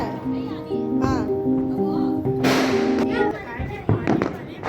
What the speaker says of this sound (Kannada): ಈಗ ಎಲ್ಲರೂ ಸೇರ್ಕೊಂಡು ಪಟಾಕಿ ಹೊಡೆಯೋಣ ಅಂತ ಹೇಳ್ಬಿಟ್ಟು ಟೆರೆಸ್ ಮೇಲೆ ಬಂದಿದ್ವಿ.